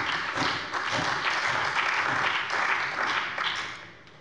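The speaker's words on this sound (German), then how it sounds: "Applaus" Sustained applause fills a parliamentary plenary session chamber, a dense steady patter of many hands clapping at moderate level, tapering off toward the end.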